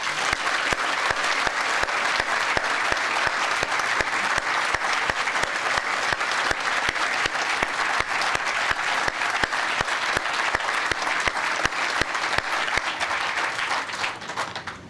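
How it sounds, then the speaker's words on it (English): An audience claps at a military change of command ceremony, sustained and even applause from a large crowd lasting about fifteen seconds, with individual claps crisp and close before it tails off at the end. "Can I get a round of applause for Colonel Olson?"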